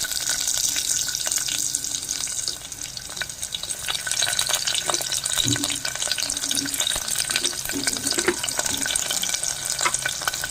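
Onions and whole garam masala with panch phoron fry in a pan for ghugni, giving a steady, close sizzle with light stirring scrapes throughout.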